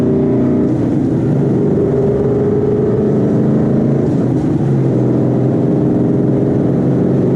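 A 2013 Mustang GT 5.0 fitted with a twin-disc clutch rumbles loudly and steadily from inside the car while downshifting, a deep engine drone with small shifts in pitch as revs change.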